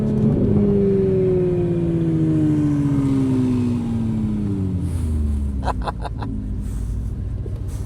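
Porsche GT3 RS engine revving hard and loud throughout, a high rising-and-falling wail as the car drives, with a brief burst of clicks or crackle near the end.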